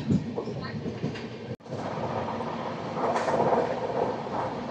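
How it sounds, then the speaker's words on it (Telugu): A passenger train, number 12868, pulls away after a fifteen-minute halt at Tadi station, giving a steady rumble with a clattering rise and a sharp knock partway through, heard from inside a carriage. "తాడి స్టేషన్లో ఒక 15 minutes హాల్ట్ తర్వాత మన ట్రైన్ స్టార్ట్ అయింది."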